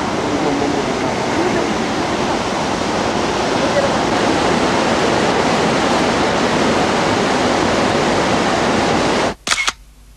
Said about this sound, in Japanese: 去年私たちも見に行きましたよ、この華厳の滝。